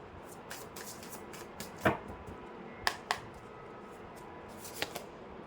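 Tarot cards are shuffled and drawn, with soft papery flicks and a few sharper snaps scattered across a quiet room.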